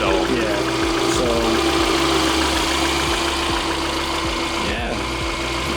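A Subaru Impreza EJ253 engine idles steadily right after a head gasket repair, a continuous mid-pitched running drone with a rapid, even pulse near the microphone, holding the same level throughout with faint background sounds.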